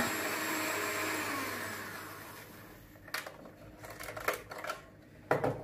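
A blender grinding palm sugar into fine powder, a steady loud whirring motor for the first seconds, then a rougher stretch of scraping bursts and short pulses.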